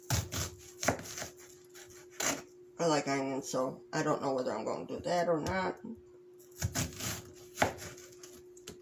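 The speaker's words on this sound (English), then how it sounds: "But I'll be back after I'm done chopping the onion." An onion being chopped with a knife on a cutting board, a few crisp knife strikes at the start and end, with a person talking in between.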